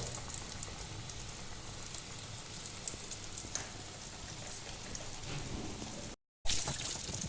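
Chicken pieces deep frying in coconut oil for homemade fried chicken, giving a steady, dense crackling sizzle like rain, close and alone, with a brief dropout near the end.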